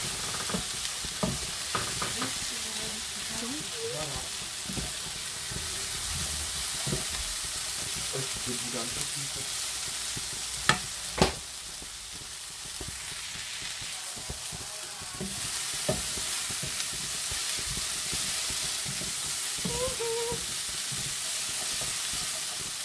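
Chopped onions sizzle and fry steadily in hot fat in a pan, a continuous close crackling hiss with occasional louder pops and stirring clatter, heard alone without talk.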